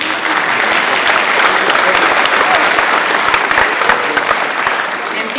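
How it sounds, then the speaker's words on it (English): A school audience at a 7th and 8th grade awards ceremony gives loud, dense applause. The clapping holds steady and full for the whole stretch. "Please join me in giving our students one more round of applause."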